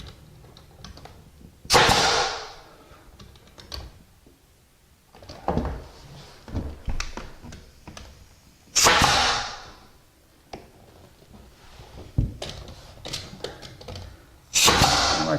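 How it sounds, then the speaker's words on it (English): A nail gun fires into interior door trim, giving several sharp, loud bangs spaced a few seconds apart, with lighter clicks and handling knocks in between. "I'm going to go ahead and nail the rest of the trim on, all the way down"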